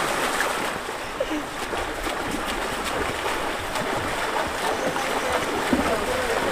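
Fast-flowing river water released from Bhavanisagar dam, rushing steadily and loudly at close range with splashing, while voices talk over it.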